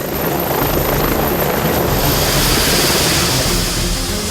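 Medical emergency doctor helicopter in flight, a steady loud rotor and engine roar with broadband whooshing that holds constant throughout, no voices.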